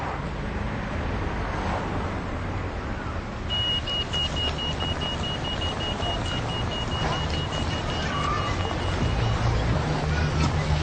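Road traffic at a pedestrian crossing, a steady close rumble of passing cars with a thin high electronic tone beeping partway through.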